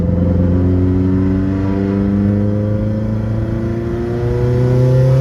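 A Subaru WRX STI (VA) at full throttle in fourth gear, overboosting with its external wastegate stuck closed: a loud, close, continuous engine drone that climbs steadily in pitch through the whole stretch, no voices.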